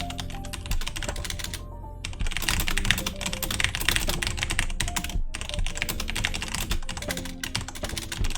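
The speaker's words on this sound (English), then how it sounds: "So if you type in some text," Rapid, continuous clicking of a computer keyboard as text is typed, close and busy, with only a couple of brief pauses.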